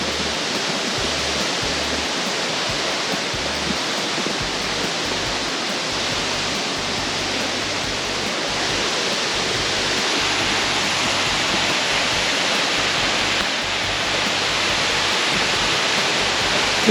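Forest waterfall and flowing stream pour out steady, dense broadband rushing water noise, close and loud, unbroken for the whole stretch with no talking.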